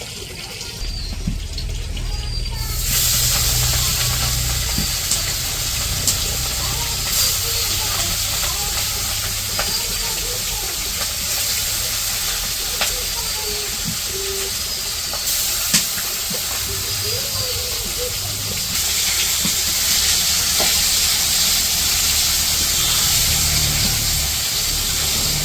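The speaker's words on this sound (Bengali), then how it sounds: "তো ওই যে মাছগুলো ভাজবো" Fish frying in hot oil in a wok in a village kitchen gives a steady, close, broadband sizzling hiss. It runs unbroken for about 25 seconds, with faint sounds of the room behind it.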